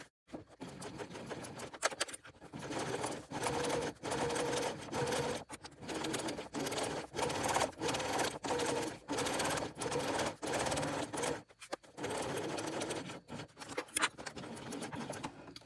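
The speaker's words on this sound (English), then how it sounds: "pivoting and top stitching straight down this side" Sewing machine top stitching down the side of a tote bag handle, loud, close rapid stitching in repeated runs broken by short pauses for pivoting, mostly alone without talk.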